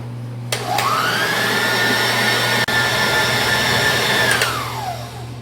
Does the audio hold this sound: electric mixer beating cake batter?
yes